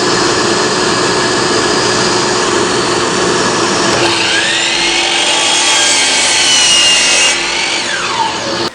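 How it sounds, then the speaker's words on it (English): A hand saw cutting a wooden sawhorse leg to a marked line, steady loud rasping strokes up close that run continuously, with no talking. "we'll just trim it off right to the line."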